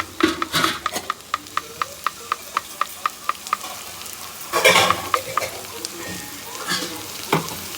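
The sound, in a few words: stirring masala into frying korramenu fish curry in pan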